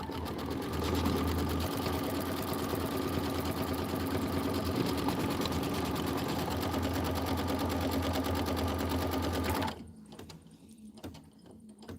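A sewing machine running a steady tack-down stitch over quilt block edges with clover thread, a loud continuous whir at close range that cuts off near the end, leaving quieter room sound.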